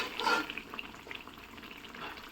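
Chopped garlic for pickle sizzling softly in a pan while it is stirred and slowly cooked, with a brief louder scrape of the spoon at the start followed by a steady, faint hiss and light crackle.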